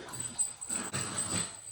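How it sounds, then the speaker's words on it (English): A Jack Russell terrier whimpers and gives small high yips in short bursts while playing with a toy, fairly close, with no talking. "Apologies for the dog."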